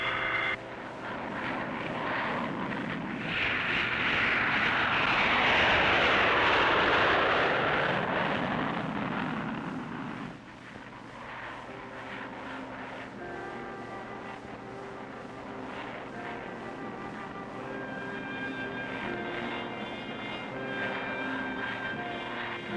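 A military aircraft carrying an Army field hospital unit takes off for Anchorage after the 1964 earthquake. Its engines swell into a loud, close roar that peaks and passes, then a steady whining drone lingers with no voices.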